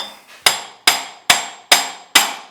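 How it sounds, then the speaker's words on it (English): Five sharp metallic hammer taps on a puller during a Yamaha YXZ1000R engine teardown ring out at an even, steady pace, each strike loud and close with a brief ringing decay. "Amazing what a little tap of a hammer will do."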